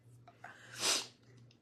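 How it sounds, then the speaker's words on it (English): A single short sneeze, close and fairly quiet, with a brief breath before it and a faint low hum in the background. "I'm gonna sneeze again."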